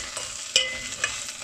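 Vegetable pieces for a clear mixed vegetable soup fry in a pan with a steady, close sizzling hiss, punctuated by a couple of brief clinks and scrapes as they are stirred.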